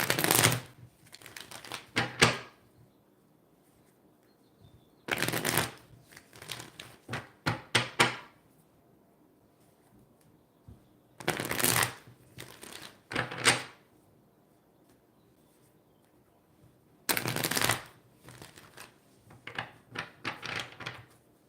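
A deck of tarot cards is shuffled in short, crisp riffling bursts of clicking and slapping, repeating about every five seconds with near silence between them. The sound is close and moderately soft, with no talking.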